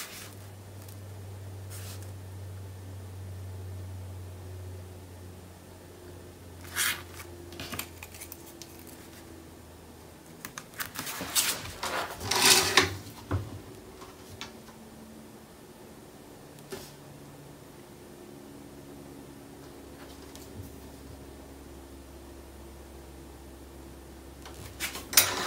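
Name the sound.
trimming a paper piece for a notebook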